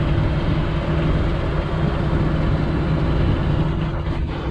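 A Case IH Magnum 7220 Pro tractor, its engine overhauled and uprated to about 300 horsepower after a powershift repair, runs steadily with a loud, constant low diesel drone and no break.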